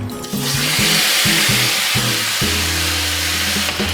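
Pork frying in its own fat in a pan with no added oil, cooked for zongzi: a loud, steady, broadband sizzle running throughout, with a low electrical hum underneath and no talking.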